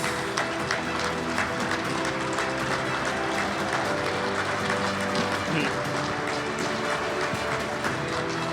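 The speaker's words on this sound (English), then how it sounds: "Ladies and gentlemen, with your applause, please welcome into the St. Louis Sports Hall of Fame, Lindsay Eversmeyer." A crowd applauds steadily at the St. Louis Sports Hall of Fame winter enshrinement dinner, with dense sustained clapping filling the hall throughout.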